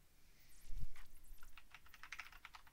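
Typing on a computer keyboard at a Windows 10 login prompt: a quick run of light, close key clicks with one heavier thump near the start, no talking.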